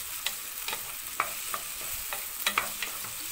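Diced garlic cloves sizzle in a pan under a soft, steady hiss, with scattered spatula scrapes and clicks as they are stirred.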